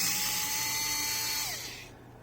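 Small screws backed out of a Galaxy S22 Ultra phone during a screen replacement, a steady high whine of a small electric screwdriver that winds down and stops near the end.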